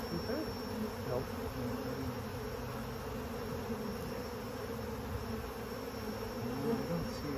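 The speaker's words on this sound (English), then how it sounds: "But there's so many bees in here" Bees swarm in an opened beehive during an inspection, making a dense, steady drone that stays close and loud for the whole stretch without a break.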